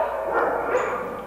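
A shy little Rottweiler mix in an animal shelter kennel gives a short, muffled bark-like yelp, mid-distance and fairly soft, with no talk.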